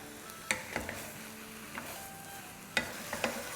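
A sweet dish mixture with raisins and milk powder, being dry-roasted in a pan, gives soft scraping and stirring scrapes with a few sharper knocks of the spoon against the pan, fairly quiet throughout.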